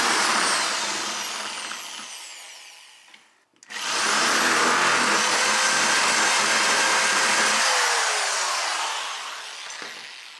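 A large drill bit boring a hole in a plastic jump starter battery box, a loud high whine that stops briefly, then restarts and drones steadily before winding down.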